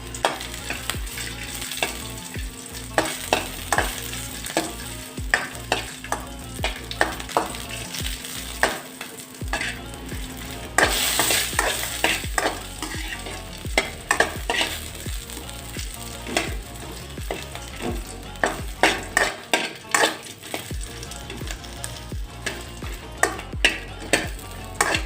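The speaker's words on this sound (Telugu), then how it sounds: "తర్వాత ఇందులోనే 4 ఎండుమిర్చి తీసుకొని వేయించుకోండి." Dried red chillies frying in oil in a pan for a spinach chutney, a continuous crackling sizzle with frequent sharp pops and occasional clinks of a spoon stirring against the pan.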